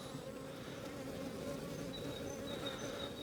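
Honeybees buzz around an opened hive box in a dense, steady hum with several bees close by, whining as they pass, quiet and continuous.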